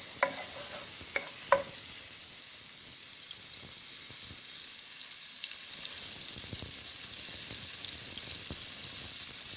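Butter melting in a hot pan for garlic butter chicken gives a steady, even sizzle that holds for the whole stretch, with a few light clinks of a utensil near the start and no talking.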